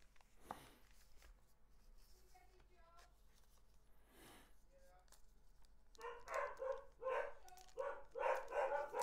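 Dogs bark in the background, first a few faint distant yips, then a louder run of repeated barks in the second half, while someone speaks nearby.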